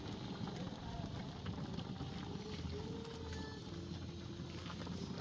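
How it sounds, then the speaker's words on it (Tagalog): A pot of cassava suman boils vigorously, giving a continuous rolling, bubbling wash heard close up beneath faint background sound. "Ang lakas ng kulong-kulo niya."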